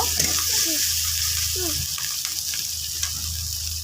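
Onion, ginger and garlic paste frying in hot oil while being stirred, a steady close sizzle with occasional scraping of the pan and soft voices faintly beneath.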